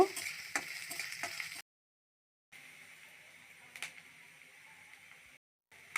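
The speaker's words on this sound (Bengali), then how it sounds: "পেঁয়াজটা হালকা লাল করে ভেজে নেব।" Chopped onion and garlic fry in a pan for a mustard-greens dish, giving a soft, steady sizzle with a few light ticks. Two moments of complete silence break the sound before the sizzle resumes.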